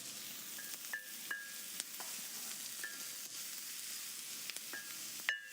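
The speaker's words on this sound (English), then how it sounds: "Now, with the onions, we also have a little bit of a garlic. Again, everything is cooking at a low heat." Onions and garlic sautéing gently over low heat produce a soft, even sizzle with a few faint clicks and light utensil taps, quiet and close, with no speech.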